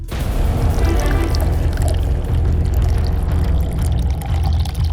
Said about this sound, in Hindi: उसी बोतल के अंदर ये शैशे पोर कीजिए।